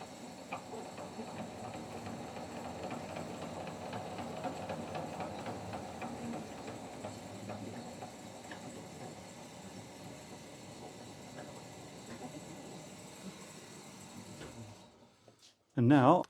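A DoAll machine's belt drive, refitted with a shorter upper belt, runs with a steady mechanical hum and faint rhythmic ticking for about fifteen seconds before cutting off, followed by a brief voice.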